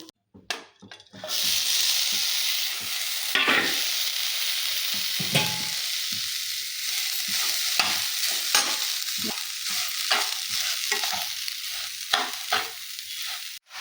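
Continuous crackling sizzle of grated coconut frying in a hot wok, with repeated scraping strokes of a spatula stirring through it, close and steady.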